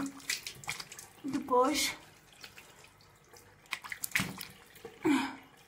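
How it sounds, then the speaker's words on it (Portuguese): Face washed with water and a cleansing gel at a sink: close, intermittent splashing and dripping bursts, with a voice speaking briefly between them. "vou usar o gel para lavar o rosto"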